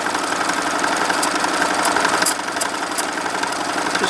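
A sewing machine runs steadily, free-motion stitching soft freeform motifs for a baby headband with the feed dogs down, a continuous close whirring hum with a slight shift in pace partway through, no talking.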